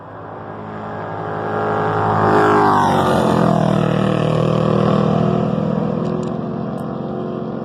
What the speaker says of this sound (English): those two motorcycles that just went by